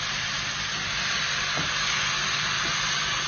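Chilli beef with sauce sizzling in a pan as it is stirred through with vegetables, a steady loud hiss throughout with a couple of faint scraping strokes, no talking.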